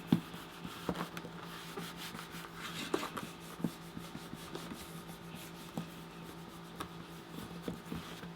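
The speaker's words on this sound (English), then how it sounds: "I'm gonna go get my bone folder and we'll press this all down" A bone folder is rubbed and pressed along leather for a bag, giving soft, steady scraping strokes with light taps, close and quiet, with no talking.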